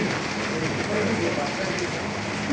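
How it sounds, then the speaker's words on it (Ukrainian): Hail falls outside a window, a dense, steady patter and hiss that fills the background evenly while women chat indoors over it. "А у нас град за вікном."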